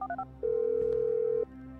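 Phone dialing in Grand Theft Auto V: a few quick keypad tones, then one long steady electronic tone lasting about a second over a low game background hum.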